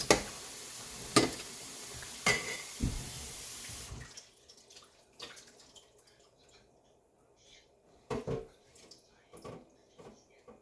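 Water splashes and swishes in bursts as chopped broccoli is washed and mixed for homemade dog food, with louder sloshes early and near the end and quiet gaps between.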